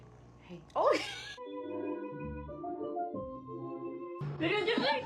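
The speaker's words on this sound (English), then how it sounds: "Look at this little kitten." A little kitten mews with high, wavering cries, mixed with bursts of nearby human talk and laughter at the start and end.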